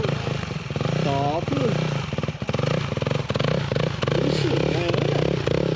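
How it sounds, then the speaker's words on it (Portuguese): A motorbike engine drones steadily nearby at a beach as someone tries riding it, with a buzzing, rattling note throughout while people talk and call out over it. "Tentando andar de moto."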